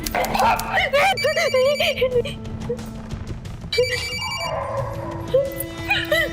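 A phone rings with a repeating melodic tone, steady and fairly loud, while a dog yips and people talk nearby.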